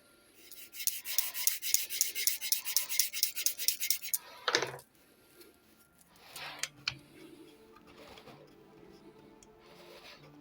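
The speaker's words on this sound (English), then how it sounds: "Just give a little bit of sanding here more." Sandpaper rubs back and forth on the wooden planking of a model ship, a rapid series of about a dozen close rasping strokes, followed by quieter handling and scraping noises.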